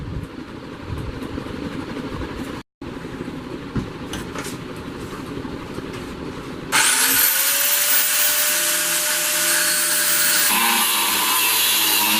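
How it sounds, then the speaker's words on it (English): A power tool cuts out a brass knuckles piece: a steady gritty hum, then a sharply louder, harsher whine with a ringing tone partway through, running continuously to the end. "So I'm going to cut this out and clean it up and then weld it."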